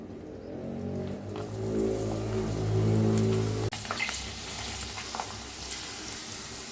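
Dried rice-flour papads deep-frying in hot oil, a steady close sizzle and bubbling that swells and then cuts off abruptly, followed by quieter crackling.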